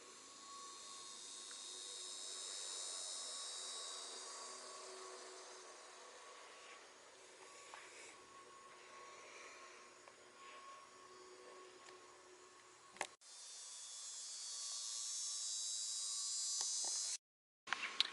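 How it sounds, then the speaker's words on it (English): A lawnmower drones steadily in the distance at a swamp nature preserve, a continuous buzzing hum that carries on for most of the stretch, briefly cuts out, then resumes slightly louder near the end. "There's a lawnmower going on,"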